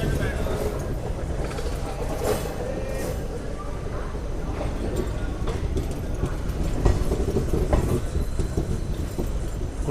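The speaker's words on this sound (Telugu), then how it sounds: "గుంటూరు జంక్షన్కి మన ట్రైన్ వచ్చేసి ప్లాట్ఫామ్ 1కి అయితే వచ్చింది" A Cherlapalli–Chennai Central superfast express rolls into platform 1 at Guntur Junction, a steady close rumble with soft wheel clatter and occasional knocks heard from inside the train.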